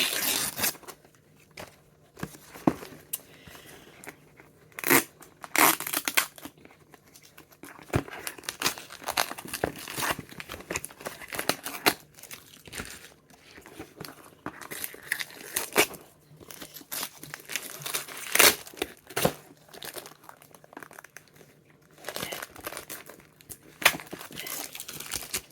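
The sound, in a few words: sticky tape being torn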